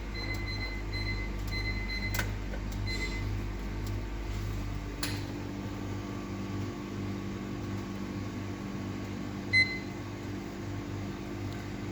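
Oven control panel giving several short electronic beeps while the temperature is set, sparse and spaced over a steady low appliance hum.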